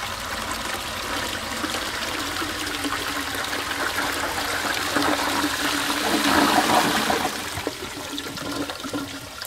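An old bell syphon cistern flushes down a 40mm waste pipe, giving a steady rushing, gurgling torrent of water that swells louder near the end and runs continuously for several seconds without speech.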